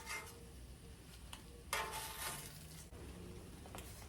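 Chicharros and inhames roasting slowly in a pan give a soft, steady sizzle with occasional stirring scrapes and a brief louder burst midway, close and quiet with no talk.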